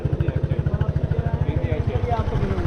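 A motorbike engine idles and putters with a steady rapid pulse, loaded with several riders at the Wagah border crossing from Pakistan to India; people talk over the running engine.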